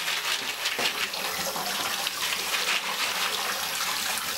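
Water pouring steadily into a plastic bin of hydro balls for a reptile enclosure, a loud continuous gushing splash that holds nearly constant throughout, with no voices.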